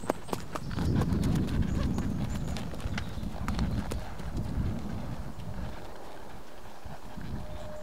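Arabian horse hooves clip-clopping during a ride, a steady rhythmic plodding that is close and clear at first and softens a little toward the end, with outdoor ambience.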